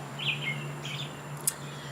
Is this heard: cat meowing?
no